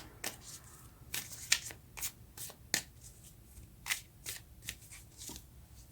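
Tarot cards shuffled by hand in a sequence of crisp, papery riffles and slaps, irregularly spaced and close, with no voices.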